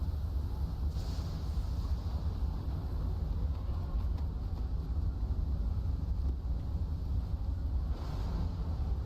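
Steady, dense wind roar at sea during a squall in Assassin's Creed Freedom Cry, a continuous low rushing blast with faint creaks and swells, loud and unbroken throughout.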